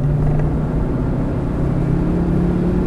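Ford Focus RS engine pulling in fourth gear, a steady loud in-cabin drone with a rising harmonic that climbs gently as the car accelerates, continuous throughout with no talk.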